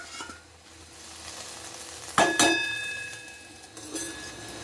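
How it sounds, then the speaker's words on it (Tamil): Yellow cucumber and tomato sauté in a hot pan with a steady close sizzle, broken by a sharp metallic clink and stirring scrape midway, then the frying carries on, no voices. "இந்த தோசைக்காயும் தக்காளியும் ஒரு ஜஸ்ட் ஒரு 5 நிமிஷம் வதங்கினா போகிறோம்"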